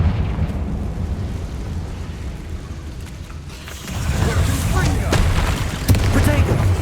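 A Confringo blasting spell exploding in Hogwarts Legacy gameplay, a deep rumbling boom that swells up partway through over constant low game noise, with a voice speaking across the clip.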